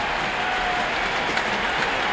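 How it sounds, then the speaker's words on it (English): A stadium crowd at County Stadium stands and claps during a baseball game, a steady dense wash of applause from many hands filling the park with no break. "The crowd again. Everyone on its feet. Clapping their hands."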